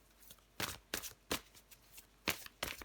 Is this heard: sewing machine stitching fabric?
no